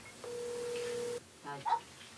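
A phone call rings out unanswered, heard as a single steady ringback tone lasting about a second, followed by faint clicks and a brief electronic chirp.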